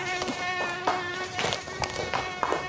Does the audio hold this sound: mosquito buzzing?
yes